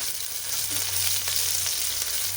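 Chopped tomato bath ingredients softening in a pan of ghee and oil, a constant close hiss of frying with faint scrapes and small pops, no voices.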